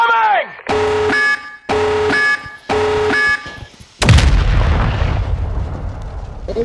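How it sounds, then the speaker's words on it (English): A thrown grenade goes off in the VR shooter Pavlov. Three rising alarm-like tones sound first, then a loud, close blast follows with a long rumbling decay. A voice is also present. "I'm gonna throw this nade all the way over the building."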